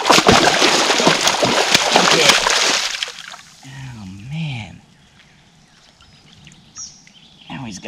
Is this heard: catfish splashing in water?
yes